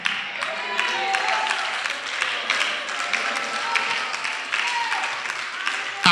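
Congregation applauding in a church service, a continuous mass of clapping across the whole span with scattered voices and calls mixed through it.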